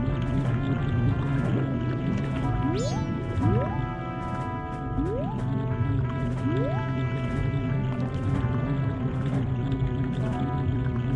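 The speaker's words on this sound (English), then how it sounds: "That noise, by the way, that you're hearing is the sound of their engines" Boat engines in Majora's Mask 3D give off a steady tonal drone with layered pitched hums, broken by a few rising whooping sweeps, continuous and fairly loud with no talk.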